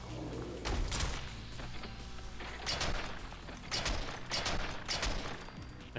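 Rifle gunfire from a modded Winchester Model 1895 in the video game Fallout 4, several loud booming shots fired in an irregular sequence, each followed by a short decay.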